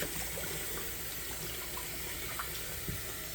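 Rhubarb stalks floated and rinsed in water in a kitchen sink, giving a steady, faint running-water wash with occasional soft sloshes and no talking.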